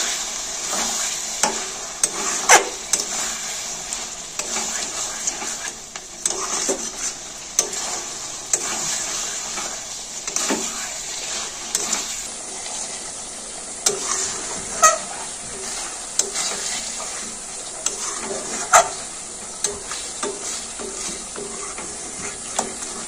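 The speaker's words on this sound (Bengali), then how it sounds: "মাংসটা প্রায় কষানো হয়ে এসছে, মাংস থেকে তেল ছাড়তে শুরু করেছে" Chicken chaap meat sautéed with spices in a pan produces a constant loud hissing sizzle, broken by frequent spatula scrapes and knocks against the pan at an uneven pace, heard up close with no talking.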